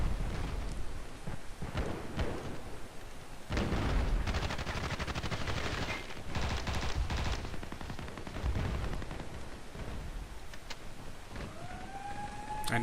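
Assault rifle fire in the video game Battlefield Play4free comes as heavy bursts of rapid shots over dense, rumbling battlefield noise. A rising whine appears near the end.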